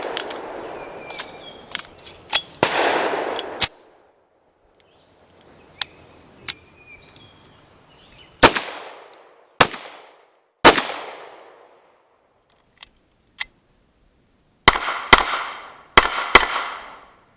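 Sharp pistol shots from a CZ 75 BD with steel frame and slide, fired at a 7-yard range: spaced single reports and quick pairs, loud and close, with ringing decay and no talk.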